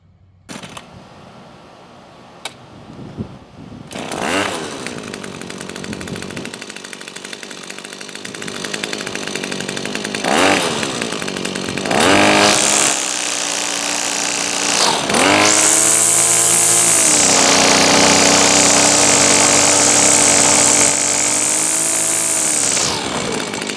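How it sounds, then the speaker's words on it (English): A VEVOR 25.2cc two-stroke string trimmer engine sputters, catches and revs up on its first start, then settles into a loud, steady buzzing idle with a high whine. "I'm just going to leave it idling there for a while."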